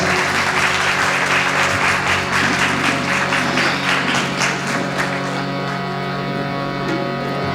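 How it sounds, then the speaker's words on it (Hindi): Loud, steady applause from an audience welcoming Vamana during a religious discourse on the Vamana avatar, dense clapping sustained throughout over a low instrumental drone. "तालियों के साथ स्वागत करें वामन भगवान का, जोरदार तालियों के साथ।"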